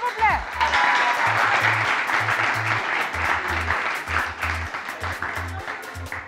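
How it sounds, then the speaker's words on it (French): Applause from a live audience at the final of a youth talent competition, Génie Milényal 2022, dense clapping running steadily throughout with cheering voices mixed in and bursts of rhythmic low thumping music underneath. "On l'applaudit, s'il vous plaît."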